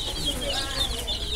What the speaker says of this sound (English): Oh my gosh, little chickens.